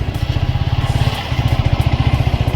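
A Yamaha MT-15 motorcycle idling near Gokak Falls: a loud, steady, close engine thrum pulsing rapidly and evenly, with a momentary dip midway before the rhythm resumes.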